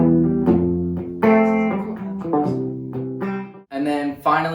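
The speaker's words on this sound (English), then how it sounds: "I put an acoustic part that sounded something like this." An acoustic guitar part for a song's bridge in a mix breakdown, busy strummed and picked chords that ring out in quick, active phrases with short pauses between them, heard alone.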